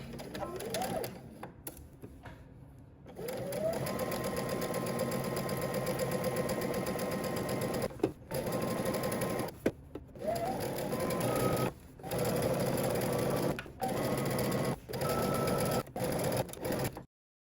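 A sewing machine stitches a dress hem in a series of fast, steady whirring runs broken by brief stops, close up and fairly loud, with no voices over it.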